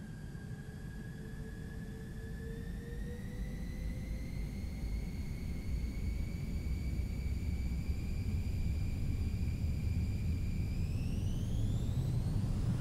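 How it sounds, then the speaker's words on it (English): An F-22 Raptor rolls down the runway for takeoff in Microsoft Flight Simulator, a steady loud rumbling roar with whining turbine tones that climb in pitch as the engines spool up, with no talking. "let's do a takeoff roll"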